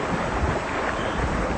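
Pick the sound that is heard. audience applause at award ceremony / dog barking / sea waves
sea waves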